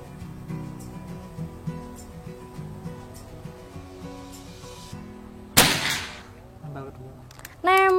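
A PCP Predator Escobar air rifle with a box plenum fires one sharp, close shot during a long-range accuracy test, following quieter background noise, with a brief tonal ring just afterward.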